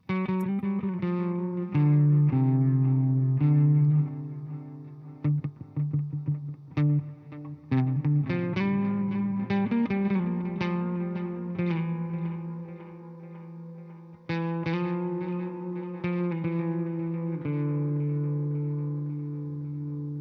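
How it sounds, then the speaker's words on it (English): Electric guitar notes and chords run through delay and reverb, repeats trailing clearly after each phrase, played alone and fairly loud. "it is delay into reverb, I'm pretty sure"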